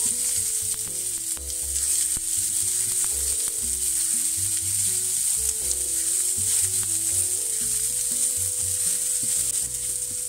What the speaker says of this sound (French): Laisser un peu roussir les oignons.